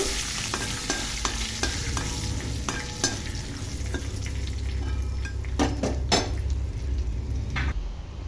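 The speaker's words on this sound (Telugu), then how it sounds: "దీనిలో ఒక పావు టీ స్పూన్ అయితే పసుపు వేసుకోవాలి ఒకసారి బాగా కలుపుకోవాలి" Turmeric being stirred into a sizzling tempering in a pan for semiya pulihora: a steady, close frying hiss with repeated spoon scrapes and clinks against the pan.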